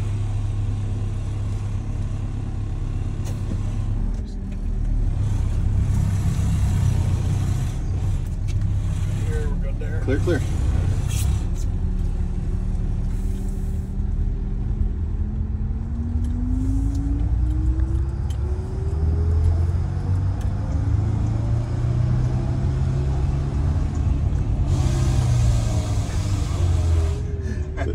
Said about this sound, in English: we're gonna go for another test drive and test the Jakes